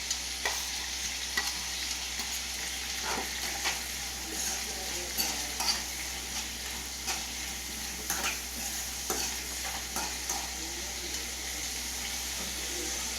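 Onion and carrot frying in a pan for bisi bele bath, a steady faint sizzle broken by repeated scraping stirs and clinks of the spatula, with no talking.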